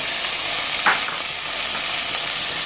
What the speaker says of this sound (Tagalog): Yan, gigisa lang natin to ng mabilisan